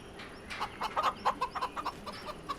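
Chickens cluck in the farming video game Farming Simulator 25 on PS5: a string of short, fairly faint clucks in an irregular rhythm over a quiet background, with no talking.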